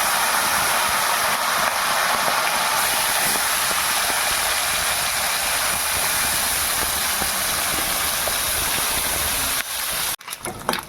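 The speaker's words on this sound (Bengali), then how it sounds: "তেল গরম হয়ে গেছে, এবার মোরলা মাছগুলো আমি ভাজা করতে দেবো।" Morola fish frying in hot oil gives a steady, dense hissing sizzle with faint crackles, holding evenly before breaking off into a few clatters at the end.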